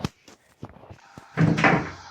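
A door being closed in a home, with a few soft knocks and handle clicks before a louder, fuller thud and rumble near the end.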